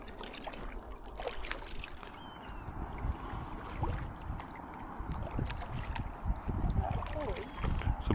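Paddling an ITIWIT X100 kayak on the River Stour: soft repeated splashes and drips of paddle strokes in water, close and fairly faint, with people talking over them.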